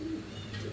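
Fancy pigeons coo close by in a short, soft, throaty burst, a single low rolling call with no talk over it.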